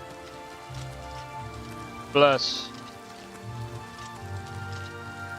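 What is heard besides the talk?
rain in video game Oblivion Remastered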